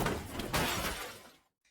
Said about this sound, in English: The car crashes